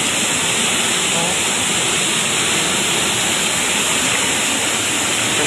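Strong rushing water after heavy rain, a loud, steady, broadband roar that fills the scene without break, with no voices audible over it.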